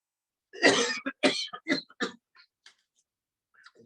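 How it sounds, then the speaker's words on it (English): A loud, forceful cough during a yoga breathing exercise bursts out after a deep inhale, followed by a few shorter coughs and throat-clearing sounds that trail off into quiet breaths. "Now this time you breathe in and cough loudly."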